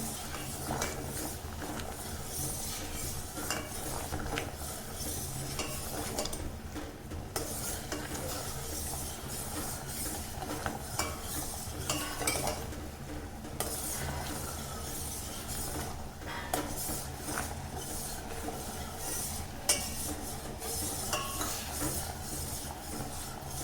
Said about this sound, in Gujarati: અને આમ એકદમ ધીમા ધીમા હલાવતું રહીશું